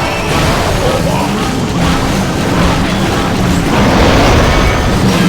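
The town hall blows up during an attack in Clash of Clans, a dense, loud wash of booming and crashing battle effects from poison towers and a monolith, with a voice talking faintly underneath.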